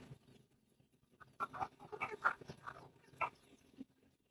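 Chickens cluck and squawk in a hot setup, a cluster of short, fairly faint calls bunched in the middle of an otherwise quiet stretch.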